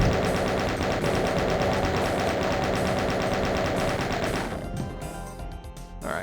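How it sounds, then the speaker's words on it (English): Rapid automatic fire from chaingunner enemies in Doom 2 rattles loud and dense for about four seconds, then thins into scattered shots and crashes. "Oh, watch out for these chain gunners."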